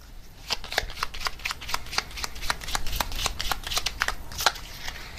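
Oracle cards are shuffled in a steady run of quick, crisp flicks and riffles, close up and continuous for several seconds.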